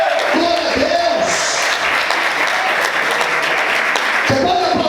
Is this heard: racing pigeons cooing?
no